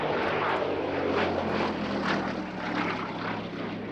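A Gloster Gladiator biplane fighter drones steadily overhead at an airshow, its propeller engine loud and continuous with a slight swell and fade.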